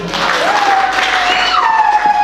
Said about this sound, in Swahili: Makofi kwa Yesu.